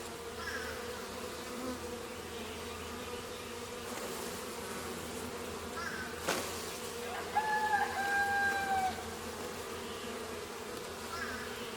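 Bees buzzing around a person's hand beside cedar trees, a steady insect drone close by, with a brief thump mid-clip and a louder whining buzz near the end.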